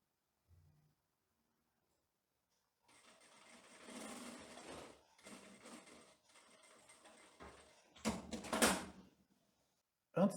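A sewing machine stitches a trouser lapel in several short bursts of whirring separated by pauses, with soft handling knocks and a sharper clatter near the end.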